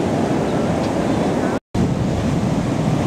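Large ocean waves surge continuously onto Rio Del Mar Beach on a sunny California winter day, a loud, broad rushing roar with wind buffeting the microphone, briefly cut off by a moment of silence midway.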